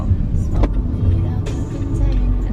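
A car's interior carries a low, steady road rumble during an evening drive on errands, with a few brief knocks and clicks over the continuous hum.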